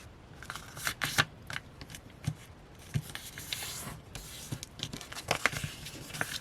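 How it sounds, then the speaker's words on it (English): Paper is folded and creased by hand for a handmade journal, with rustling, crinkling and sharp swipes in irregular bursts, close and quiet. "just fold your paper"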